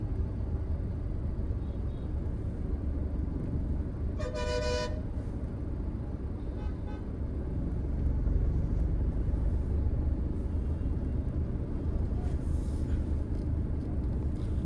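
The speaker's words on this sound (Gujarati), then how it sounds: "અને પાછળ બે બસો ભેગી થઈ ગઈ છે, એટલે નસવાડીના બજારમાં ટ્રાફિક થઈ ગયું છે." Traffic jam in Naswadi's narrow main bazaar, with buses and bikes creating a low, steady road rumble and one clear horn toot partway through.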